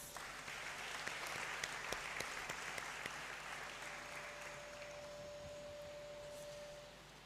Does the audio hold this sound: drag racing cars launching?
no